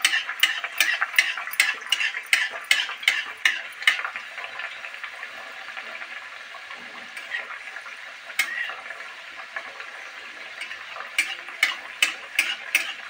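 Colourful mathri frying in oil over medium heat, a soft steady sizzle with a quick series of light utensil clicks and scrapes at the start and again toward the end, no talking.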